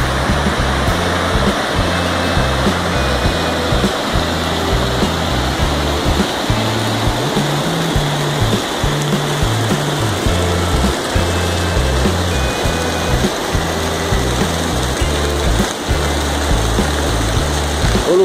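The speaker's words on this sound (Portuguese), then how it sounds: "Estamos no pé da Cachoeira dos Luiz." Steady, continuous roar of the Cachoeira dos Luiz waterfall in Bueno Brandão, Minas Gerais, heard from its base with no pauses, loud and close, the rushing water filling the whole clip.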